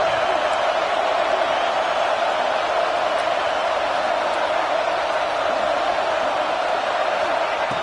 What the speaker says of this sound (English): here comes the noise. This crowd is trying to inspire this defense to make a big red zone stop.